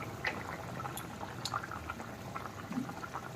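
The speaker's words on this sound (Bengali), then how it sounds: "এবার আর একটু ফুটবে ঝোল।" A red, spicy rohu fish curry broth simmers in a pot with soft, continuous bubbling and small pops, quiet and steady throughout.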